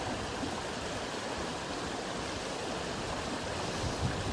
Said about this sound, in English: This is a lovely beck, going past the quarry